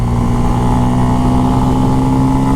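A motorcycle engine pulls steadily in fourth gear, a loud and continuous drone with a rising pitch, heard close up from the rider's position with constant wind and road rumble around it.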